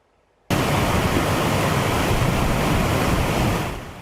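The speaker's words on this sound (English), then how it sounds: "Danger and damage from a roaring creek." Roaring creek floodwater rushing hard enough to break through a road near Sand Canyon, a loud, dense, continuous roar that starts abruptly and fades slightly at the end, with no voices.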